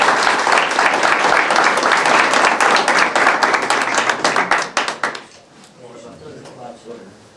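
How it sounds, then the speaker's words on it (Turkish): Loud, close clapping from guests at a lawyers' robe-wearing ceremony held at a bar association, dense and steady for about five seconds before breaking into a few last claps and a quiet room. "Alkışlıyorum."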